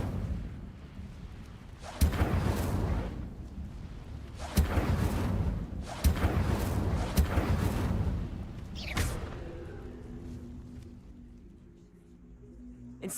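Repeated Incendio fire spell casts in Hogwarts Legacy, each a sharp onset followed by a roaring, whooshing blaze; four close bursts in a row, then a fainter fading flare and a low hum.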